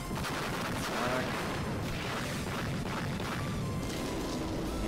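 Explosion blasts from the shoot-'em-up game Trigger Heart Exelica, a dense continuous roar of crackling, gunfire-like bursts filling the whole stretch, loud and close with no talk over it.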